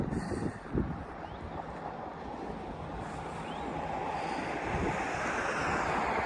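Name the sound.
wind at the seafront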